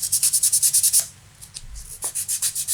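Fly-tying foam being sanded with 120-grit sandpaper, quick rhythmic scratchy strokes in a fast run, a short pause, then another burst of strokes, close up with no voice.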